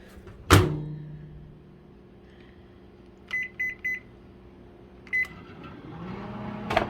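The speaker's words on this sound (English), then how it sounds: "Put it in the microwave." A microwave oven hums steadily in a kitchen while heating cornstarch gravy made from air fryer drippings, with a door clunk at the start and a few short beeps from the control panel midway.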